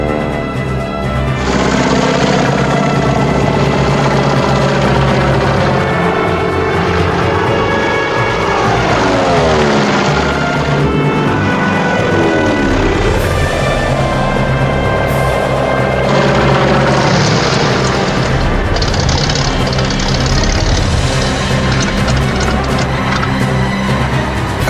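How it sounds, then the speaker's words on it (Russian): A propeller aircraft circles low over an airfield, its engine droning loud and continuous for the whole stretch, with the pitch sweeping down and up as it passes overhead, no talk. "Вначале он сделал круг над аэродромом, снизился, повел самолет на посадку."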